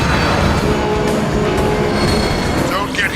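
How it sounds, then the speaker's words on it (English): Train rushing past in the War for Cybertron video game, a loud rumbling roll with metallic squeal and clatter amid game effects and voices. "Don't get hit by the train, you fool!"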